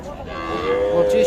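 A single cow moos close by, a drawn-out low call lasting about a second with little else around it.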